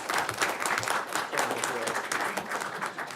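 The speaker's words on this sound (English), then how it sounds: "It's okay to applaud." Steady applause from a crowd at a school board meeting, a dense patter of many hands clapping throughout at moderate volume.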